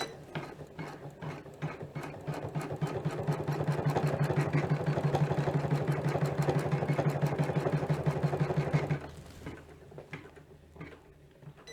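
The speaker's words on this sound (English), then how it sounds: "Now you can see it's just stitching directly on top." An embroidery sewing machine stitches in a hoop with a rapid, steady mechanical clatter that runs for about nine seconds at moderate level, then stops, leaving quieter handling noises.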